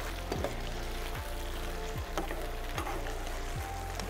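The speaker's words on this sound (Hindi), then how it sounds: "इस लेवल पर आके आप देखें चिकन हमारी किस कदर फ्राई हो चुकी है" Chicken fries in a pan with a steady, close sizzle, while periodic scraping strokes of stirring cut through at regular intervals.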